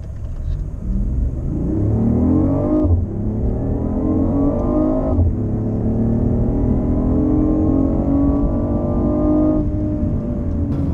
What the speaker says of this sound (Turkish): Hani hiç tereddüt etmiyor otomobil hızlanırken